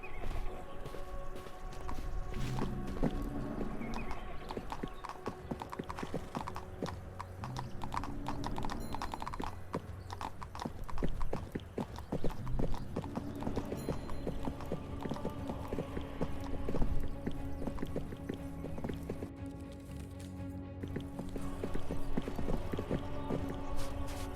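Hooves clop steadily on the ground in the video game 1428 Shadows Over Silesia, horses walking at a brisk, rhythmic pace with a faint whinny among the continuous footfalls.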